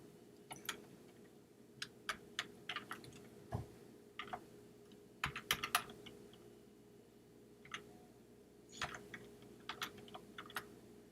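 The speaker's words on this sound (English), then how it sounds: "All we doing is typing in that domain right there." Someone types on a computer keyboard in a quiet room, sparse bursts of sharp key clicks with pauses between groups, over a faint steady electrical hum.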